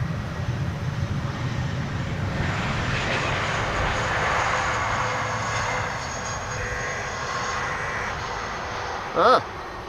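A landing airliner at Amsterdam Schiphol briefly spooling up its thrust reversers, a distant broad engine roar that swells in the middle and then fades, with a voice talking over it.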